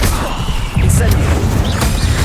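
Incendio fire spell effect going off in a wizard game, a loud roaring, crackling burst with booming low rumble that swells after a brief dip and holds steady, with a few bright whooshing accents on top.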